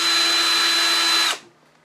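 A cordless power drill whines steadily at high speed, boring a 3/16 to 1/4 inch peg hole into a turned wooden Gonk ornament, loud and close, then cuts off abruptly and winds down to silence.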